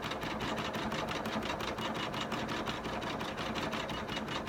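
An embroidery machine running steadily through a design, a fast, even mechanical stitching chatter with a rapid regular rhythm, moderately close and alone.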